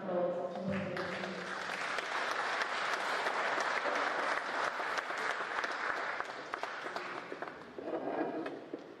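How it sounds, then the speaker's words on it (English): Audience applause at an evening event in London, a dense, sustained round of clapping from a large room that holds steady for several seconds before thinning out. "So please join me in giving a well-deserved round of applause to Wahid Majid."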